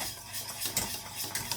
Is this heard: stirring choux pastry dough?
yes